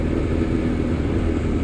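A 1998 Suzuki Bandit 600 motorcycle engine hums steadily while riding, a constant mid-pitched drone mixed with road and wind noise at an even level throughout.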